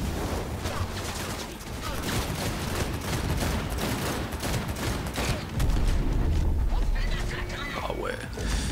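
Cyberpunk 2077 combat gunfire and incoming bullet hits, a dense continuous rattle of shots and mechanical clatter, loud and steady, with a voice talking over it.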